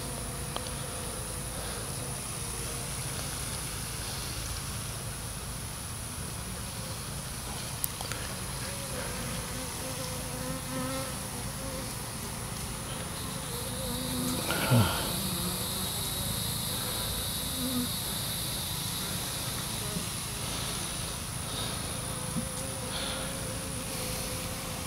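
Honeybees buzz in a steady, soft drone while frames from a swarm trap are lifted and inspected outdoors, with a low background hiss and an occasional louder swell.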